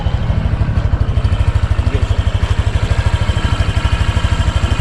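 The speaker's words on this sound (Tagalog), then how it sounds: "Tahimik ng makina niya." A Honda Click 125 motor scooter engine idles steadily close by, a low rapid even putter with faint mechanical clatter, no voices.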